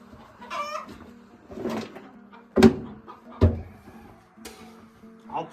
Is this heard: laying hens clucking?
yes